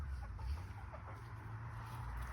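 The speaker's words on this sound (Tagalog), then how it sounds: "Ayan yung mga manok guys oh." Several hens let out of their coop in summer cluck softly and steadily, a low, close, continuous farmyard murmur with no talking.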